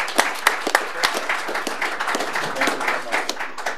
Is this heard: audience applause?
yes